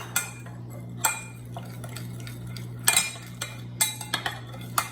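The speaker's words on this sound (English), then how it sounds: "I'm going to add my yeast to that and then stir it up." A spoon stirs sugar and yeast in a bowl, giving sharp clinks and taps against the side at an uneven pace over a low steady hum, close and fairly quiet between strikes.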